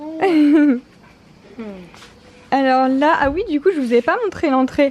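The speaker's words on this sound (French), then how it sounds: "Alors ça c'est Bella, c'est le chien de la villa." Bella, a villa dog, whimpers and whines in high, wavering bursts close by, broken by short pauses while someone talks over some of the sounds.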